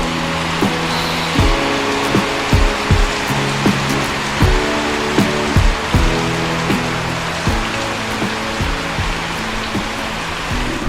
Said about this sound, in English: Sheeting rain.